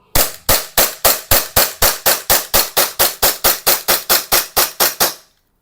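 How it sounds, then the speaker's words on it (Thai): An Umarex Glock 17 Gen5 gas blowback pistol fires about seventeen sharp, evenly spaced shots in a steady rhythm, loud and close, then falls silent. "ยิงหมดสไลด์แขวนนะครับสิบเจ็ดต่อนะครับ"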